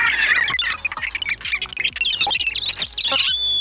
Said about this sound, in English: just how many different bird sounds are already in this thing